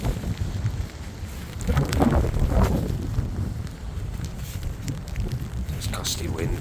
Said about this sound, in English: There's gusty wind and not very heavy rain at the moment, but very, very windy.